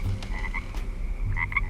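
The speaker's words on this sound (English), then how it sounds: "listened to every croak and hum of the frogs that kept her beloved garden pest free" Frogs croak in a garden at night, a steady chorus of repeated calls with a low continuous hum beneath, moderately close and alone without talk.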